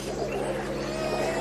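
Birds sing and coo in a dense, continuous outdoor chorus, with dove-like cooing woven through steady background ambience.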